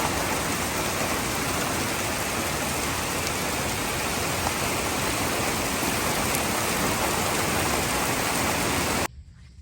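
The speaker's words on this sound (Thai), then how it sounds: "ฝนตก" Steady, dense rain pours down for about nine seconds, a loud continuous hiss that cuts off abruptly near the end.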